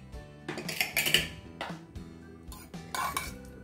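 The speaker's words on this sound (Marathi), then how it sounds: "आता आपण त्याचं झाकण काढून बघू।" A pressure cooker lid is worked open after cooking whole masoor lentils, giving a few metallic clanks and scrapes in quick succession, close and fairly quiet, with no talking.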